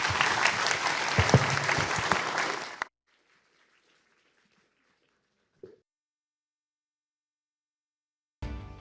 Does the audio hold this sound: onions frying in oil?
no